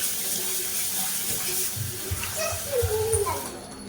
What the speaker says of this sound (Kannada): ಫಸ್ಟು ಸೊಪ್ಪನ್ನು ತೊಳ್ಕೊಂಡ್ಬಿಡ್ತೀನಿ, ನೀಟಾಗಿ ವಾಶ್ ಮಾಡಿಸ್ಕೋಬೇಕು.